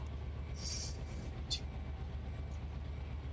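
A train runs in the Run8 train simulator video game, producing a steady low rumble with a few brief high metallic squeals or clicks over constant rolling noise.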